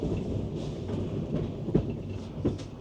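Gaustabanen mountain railway train inside the mountain in Norway rumbles steadily nearby, with broadband rolling noise and a few sharper clacks and knocks, no talk.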